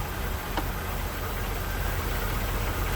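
A car engine idling at around 640 to 650 rpm during warm-up regulator setup and fuel pressure testing. It gives a steady, close, broadband rumble that stays even throughout, with no talking over it.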